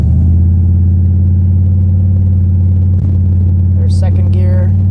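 A car engine rumbles low and steady as the automatic transmission pulls away in drive, with a brief dip where it shifts into second gear; someone talks over it.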